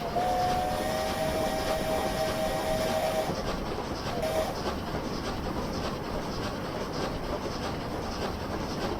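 A steam locomotive runs steadily in the Train Simulator Classic game, a continuous rolling rail rumble with a long whistle blast at the start and a brief second toot a moment later.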